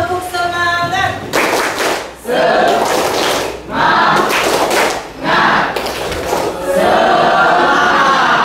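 A school class claps a rhythmic spirit cheer in bursts of sharp, synchronized handclaps, the pattern repeating several times with short pauses and voices calling along between groups.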